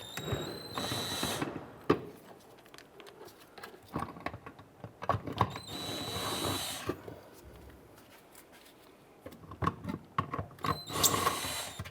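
A socket wrench removes bolts from the spare tire hoist of a Honda Pilot, heard as bursts of quick ratcheting clicks and metallic rattles close by, separated by brief quieter pauses.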